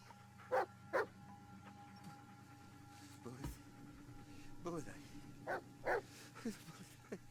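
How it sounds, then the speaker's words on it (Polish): Dog barking in the Blair Witch video game, a few short barks and yips in two pairs early and a cluster near the end, moderately close over a steady low hum, with people talking between the barks. "Piesek nas obudził?"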